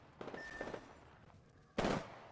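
Gunfire in the Apex Legends video game: a quick burst of several shots, a short pause, then one louder, dense blast near the end, with no talking.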